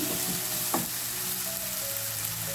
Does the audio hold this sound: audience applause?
no